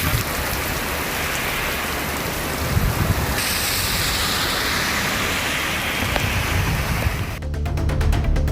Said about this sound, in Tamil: சிவகங்கை மாவட்டம் மானாமதுரை பகுதியில் கனமழை வெளுத்து வாங்கியது.